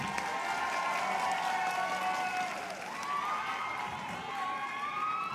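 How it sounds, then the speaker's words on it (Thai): Crowd applause and cheering for the Pheu Thai party at an outdoor political rally, continuous and loud, overlaid by wavering whistle or siren-like tones. "ขอเสียงปรบมือให้พรรคเพื่อไทยครับ"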